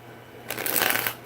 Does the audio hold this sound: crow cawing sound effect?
no